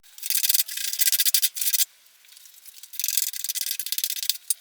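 Bass guitar frets on a Precision Bass build being rubbed with fine sandpaper after 320 grit, a close, steady hissing scrape in quick back-and-forth bursts with a short pause midway.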